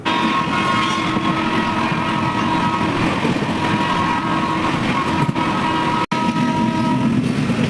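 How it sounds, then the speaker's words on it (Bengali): A passenger train pulls out of Malda Town station in India, heard from on board as a loud, steady rumble with a sustained tonal hum, broken by a brief dropout near the end. "ট্রেনটি ঠিক টাইম মতন মালদা টাউন থেকে ছেড়ে দিল"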